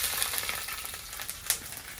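Garlic, ginger and green chilli fry in coconut oil for a chicken biryani, giving a steady, soft sizzle broken by small pops and spits, with no talking.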